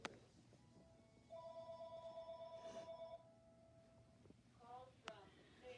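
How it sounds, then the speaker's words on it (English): A telephone rings at a nature center, a repeated electronic trill of two or three bursts, faint and somewhat distant, with a quiet voice around it. "the phone is ringing at the Nature Center"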